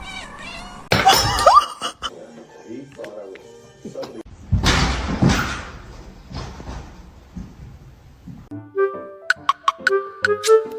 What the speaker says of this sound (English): He's a very loving cat.